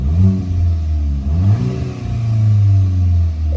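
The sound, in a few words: 2022 VW MK8 GTI exhaust pops in sport mode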